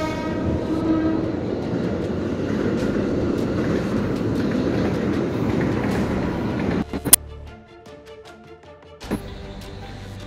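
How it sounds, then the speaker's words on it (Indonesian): A train rumbles past with a steady rolling clatter, followed by a sharp horn-like blast and quieter tonal hum as the passing noise fades. "Masih bisa terdengar kereta, suara kereta."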